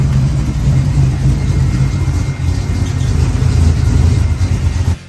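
A third-generation Chevrolet Camaro's engine runs steadily and loud at close range as the car rolls into a shop, a deep continuous rumble that cuts off abruptly at the end.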